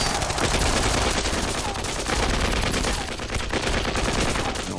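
Sustained automatic gunfire from soldiers shooting at enemy troops armed with rockets in front of a tank, loud and dense with rapid overlapping bursts filling the whole stretch without pause.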